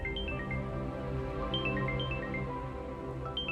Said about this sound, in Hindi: इस वक्त किसकी कॉल आ गई?